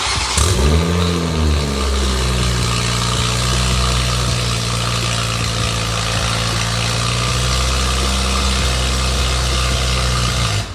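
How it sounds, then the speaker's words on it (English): A loud Toyota GR Supra engine with only a straight downpipe and no exhaust starts with a sharp bark, then settles into a deep, rumbling idle that drones steadily and close. "So that was the Supra with just the downpipe, no catback, no exhaust, just downpipe."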